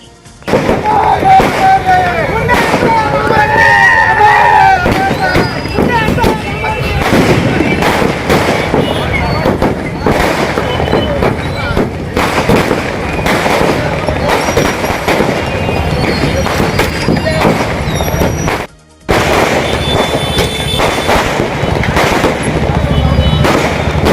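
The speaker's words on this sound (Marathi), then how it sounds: "फटाके वाजवून मोठा आनंदोत्सव साजरा केला" Firecrackers bursting in rapid dense strings at a street celebration in Beed, loud sharp cracks continuing almost without pause, with crowd noise and voices underneath.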